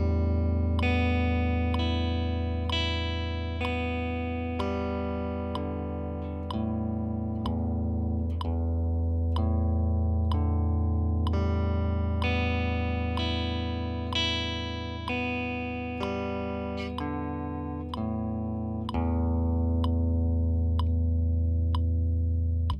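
Electric guitar played with alternate-picking upstrokes in time with a metronome, through an effects unit with distortion and chorus. Evenly spaced picked notes ring out one after another in a steady rhythm, loud and close, with no talking.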